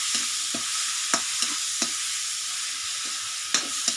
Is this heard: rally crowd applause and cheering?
no